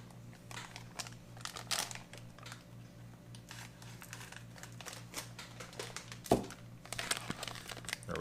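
A bag of beverage base powder from a military-style rice and chicken southwest ration menu is cut open along the top, giving quiet close crinkling and small clicking snips scattered over several seconds, with no speech.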